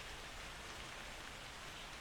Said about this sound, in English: this rain will continue to worsen